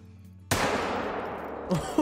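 A hunting rifle shot in theHunter: Call of the Wild, a pronghorn hunt, fires with a sharp loud crack and a long rumbling decay, followed by a second faint thump near the end.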